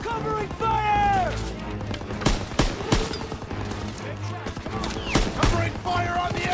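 Sustained machine-gun covering fire in the World War II shooter Call of Duty WW2 at Hill 493, with rapid bursts and sharp impacts alongside a game soundtrack, while voices shout orders over the gunfire.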